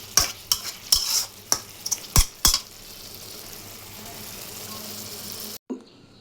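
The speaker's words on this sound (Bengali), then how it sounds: "কিছুক্ষণ নেড়ে চেড়ে আমি এটা নামিয়ে নিব" Egg bhuna curry with coriander leaves and cumin, stirred in a pan: about eight sharp spoon scrapes and taps in the first few seconds, then a steady soft sizzle until an abrupt cut.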